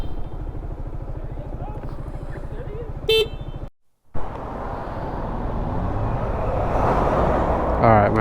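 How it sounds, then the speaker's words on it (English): A car horn honks at a driver blocking the road, sounding once as a short, loud toot over engine and traffic noise, followed by a brief dropout, rising road rumble and people talking. "So I honked at him because he was blocking the road."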